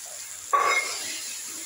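Ginger paste dropped into a hot pan breaks into a sudden close sizzle over a steady background hiss, then settles into a softer continuous frying sound with no talking.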